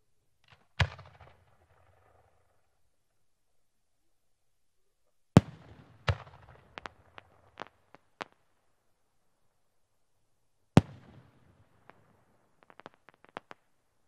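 A fireworks display shot called Karibika, heard as three separate bursts, each a sharp launch bang followed by crackling pops and small reports, with quiet gaps between them.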